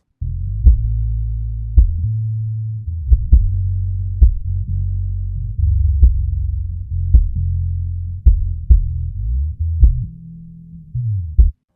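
Playback of a song mix in progress comes through as only its low end: deep, sustained bass tones punctuated by steady, punchy kick-drum thumps. It plays loud and continuous with no talking.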